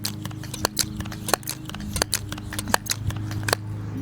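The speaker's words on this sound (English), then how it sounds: "you notice how much quieter this is when you cock it?" A Crosman 1377 air pistol fitted with an upgrade kit being cocked, a series of sharp mechanical clicks and sliding strokes close by, fairly quiet, with no talk.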